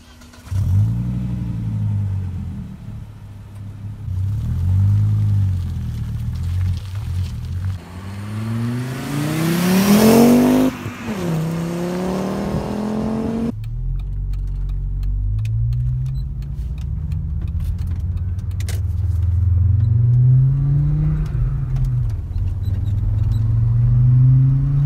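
A warm Volvo V70R five-cylinder engine revs and accelerates through the gears, its pitch repeatedly climbing and dropping, loud and close throughout.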